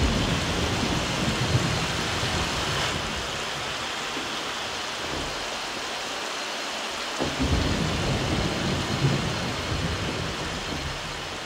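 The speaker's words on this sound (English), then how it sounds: "a little bit more rain." Synthesized rain with rolling thunder from a VPS Avenger software synth FX Rain preset, a steady dense hiss of rainfall with low rumbles swelling and fading throughout, no voices.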